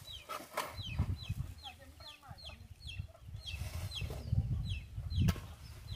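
Chickens cluck and chatter near a farm corral, a run of short, repeated clucks close by with some rustling and occasional background voices.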